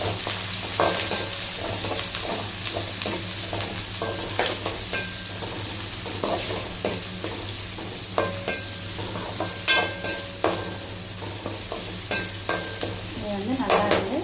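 Onions and curry leaves frying in a pan while a crab dish is being cooked, a steady loud sizzle with scraping stirs and occasional clinks of the spatula against the pan throughout.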